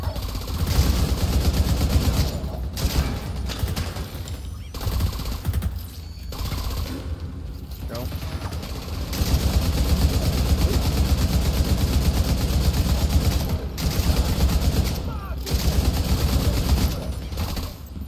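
Gunfire in the video game Tom Clancy's The Division 2, with repeated bursts of automatic rifle fire that come in loud clusters and are broken by short pauses, the shots rattling over a low rumble of game ambience.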